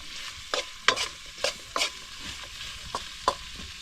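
Adobo cooks in a pan over a soft, steady sizzle, cut by sharp scraping clinks as a utensil stirs it, roughly eight strokes spaced unevenly, heard close with no voices.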